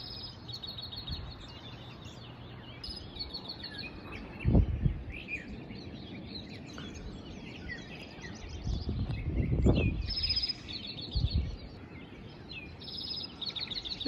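Scattered high bird chirps and calls at an Outer Banks beach over a steady low wash of surf, with a few louder thumps of waves breaking nearby.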